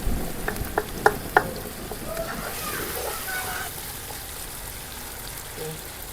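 Tomatoes cooking down in a pot for karela mutton, with a soft steady sizzle and a few clinks of a spoon stirring early on.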